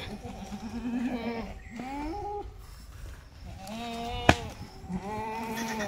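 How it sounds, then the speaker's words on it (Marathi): Red Kathiawadi goat at a livestock sale bleating in several drawn-out, wavering calls, close and fairly loud, over a busy crowd murmur with other animal calls around. "तांबडी शेळी"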